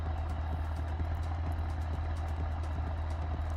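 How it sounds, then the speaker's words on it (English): A car engine idles in the BeamNG driving simulation game, a steady low droning hum that holds evenly throughout with no voices over it. "That way I don't have to hear the engine."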